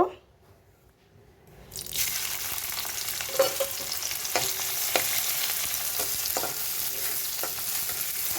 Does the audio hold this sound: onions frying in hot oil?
yes